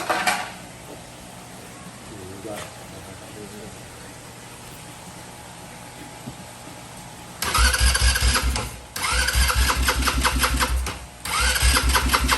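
A motorcycle engine cranks and catches, then revs loudly in bursts with short dips between, close by, after a quieter stretch with faint background noise and a few knocks.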